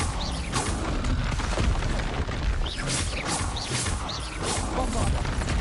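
Spell explosions from Bombarda and Confringo in Hogwarts Legacy on PlayStation 5, a dense run of booming blasts, crashes and whooshes that keep overlapping with no let-up.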